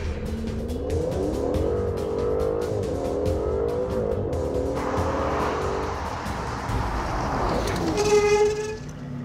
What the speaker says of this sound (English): It just keeps wheel spinning.